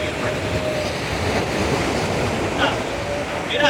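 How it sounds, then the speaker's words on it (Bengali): Sea waves roar steadily at Puri beach on an overcast day, a continuous broad wash of surf with no clear breaks, fairly loud and close throughout. "সমুদ্রের গর্জন একটা আলাদা।"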